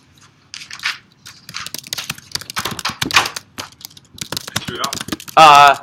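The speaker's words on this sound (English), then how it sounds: "Yeah, I'm just typing out the theory interp." Laptop keys clack in quick, irregular bursts during a high school debate round, close by and mixed with people talking nearby.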